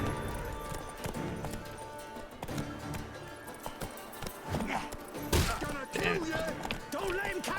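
Horses galloping during mounted combat in The Witcher 3: Wild Hunt, a busy rhythmic clatter of hooves under game music and combat noise, with horse snorts or whinnies and a loud hit near the end.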